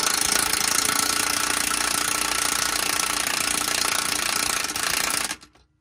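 A power tool with a 19 mm socket buzzes steadily for several seconds while tightening a shock absorber nut on a Nissan Pathfinder, loud and close, then stops abruptly.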